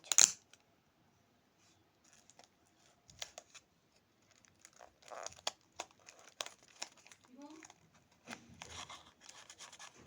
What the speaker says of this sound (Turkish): kenarlarını da bantlayıp geliyorum